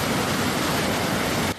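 Muddy floodwater surging after typhoon rain, a steady, loud broadband roar of rushing water that holds constant before dropping off abruptly at the end.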